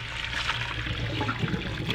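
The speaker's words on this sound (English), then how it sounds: "I'm taking the potato and I'm gonna drain the water" Water drains off boiled potatoes in a steady, continuous gush that runs throughout, close and fairly loud.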